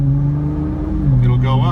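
Nissan GT-R R35 engine holding a steady low drone under throttle, pitch rising slightly toward the end, loud and close beneath a voice talking over it.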